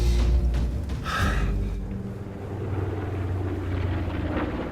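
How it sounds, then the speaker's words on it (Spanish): A small light airplane passes close overhead, a low droning engine hum with a brief rushing swell early on, then a steadier continuous drone that carries on without talk. "Esa avioneta se oye demasiado cerca."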